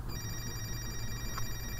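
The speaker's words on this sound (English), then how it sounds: "The phone's ringing." A telephone rings faintly in the background, a steady electronic trill of high tones over low room rumble, with no one speaking.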